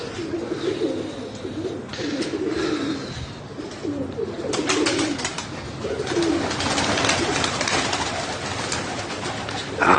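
Genuine Namangan feather-footed pigeons coo in a steady, layered chorus, with repeated low throaty calls over ongoing wing and background rustle; no talk.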